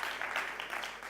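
Applause from the audience at the FameLab Australia 2018 national final awards ceremony, a soft, steady patter of many hands clapping heard from a distance.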